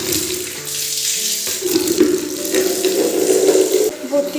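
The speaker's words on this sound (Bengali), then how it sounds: "বাথরুমে এক বালতি জল পুড়ে নিই" A bathroom tap runs into a bucket, giving a close, steady gush of pouring water whose tone rises as the bucket fills.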